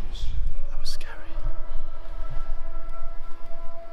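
A distant siren wails with a thin rising, sustained tone inside a museum, heard faintly behind close, hushed voices and low rumbling background noise.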